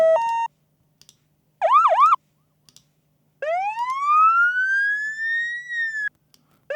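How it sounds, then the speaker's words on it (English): Synthetic siren tones play alone: a short steady beep, a quick warbling burst, then a long rising wail, separated by silence. "It sounds like police sirens, doesn't it?"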